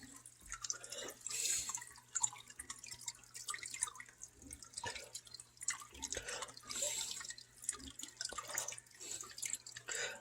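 Water trickles and drips steadily back into a tank while salt is being added, a continuous close splashing with no voices.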